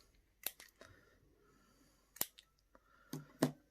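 Scissors trim ribbon on a handmade thank-you card, giving a few faint, crisp snips and clicks spaced irregularly in an otherwise quiet room.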